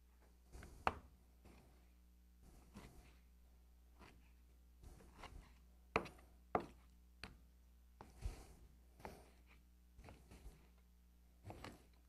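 Sharp knife chopping raw chicken into roughly one- to two-inch cubes on a cutting board, a string of distinct, close knocks at an uneven pace with short gaps between them.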